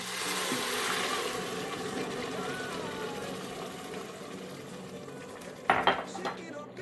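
Hot liquid pours steadily into a Greek rice pilafi with pepper in an Instant Pot, a soft continuous rushing wash, followed near the end by a few sharp clinks of a utensil stirring against the pot.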